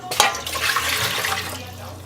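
Water poured from a measuring cup into a cooking pot while making waakye, a brief close splashing gush lasting about two seconds.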